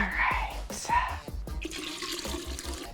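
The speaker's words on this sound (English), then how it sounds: "And now just fill it with your juice." Watermelon juice pours into a hollowed-out watermelon used as a punch dispenser, a close, steady splashing and trickling of liquid with a few soft knocks, fairly loud throughout.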